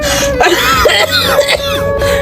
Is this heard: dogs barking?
no